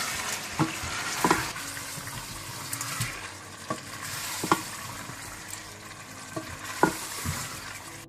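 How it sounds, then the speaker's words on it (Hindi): Chicken fries in a pan for achari murgh, a steady loud sizzle with irregular scrapes and knocks as a utensil stirs it, and no voices. "चिकन को आपने अच्छी तरह से 15 मिनट के लिए भून लेना है।"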